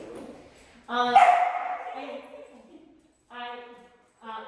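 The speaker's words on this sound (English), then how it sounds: "We're just going to let Abu walk around and check out the dogs" Dogs bark at a puppy training class: one loud, harmonic bark or yelp rings out and trails off, followed by two shorter barks after a pause, close by, with people talking nearby.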